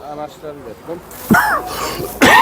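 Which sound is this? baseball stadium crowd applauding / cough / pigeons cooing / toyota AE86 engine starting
cough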